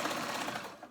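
A sewing machine hems the fabric of a ruched tee in a quick, faint burst of steady stitching, heard up close for about a second.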